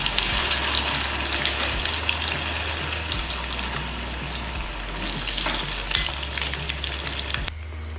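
Loud, steady crackling hiss of banana pieces frying in hot oil for jaggery-coated banana chips, close up, with a faint low hum underneath and no talking.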